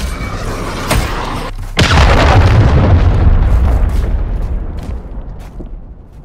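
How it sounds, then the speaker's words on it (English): A cruise missile strike in Call of Duty Modern Warfare 3 multiplayer: a sharp bang, then a heavy, loud boom with a long rumbling roar that slowly fades over several seconds. "Friendly cruise missile approaching target."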